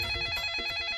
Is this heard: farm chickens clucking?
no